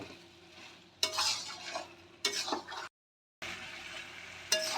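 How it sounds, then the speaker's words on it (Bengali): Tomatoes are stirred and sautéed in a pan for Pakistani chicken curry: bursts of sizzling and spatula scraping come in short spells between quieter gaps, close up and unaccompanied by speech. "টমেটোটা দিয়ে আমি ভালো করে কষিয়ে নেব।"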